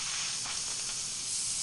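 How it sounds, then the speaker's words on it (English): Steam rushing out of a pressure cooker's release valve after cooking gumbo, a loud steady hiss filling the whole clip with no talk. "we're going to release the pressure. And you want to be careful when you're doing this because it will have steam that comes out very quickly"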